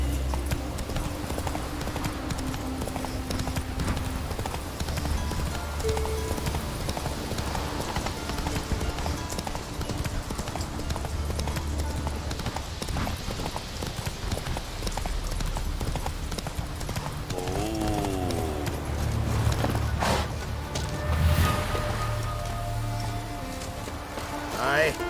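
Horse hooves clip-clop steadily in the game The Witcher 3, a continuous rhythmic galloping beat held up close over a low ambient bed for the whole stretch.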